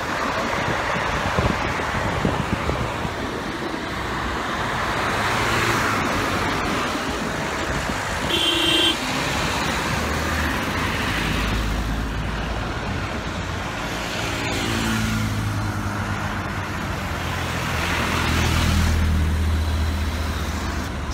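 Steady road traffic on a busy, potholed Istanbul street: cars and heavier vehicles roll past in a continuous rumble, with engine surges rising and fading and gusts of wind buffeting the microphone.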